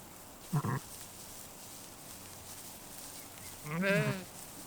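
Two sheep bleats on an Australian homestead, a short one early and a longer wavering one later, over quiet outdoor background noise.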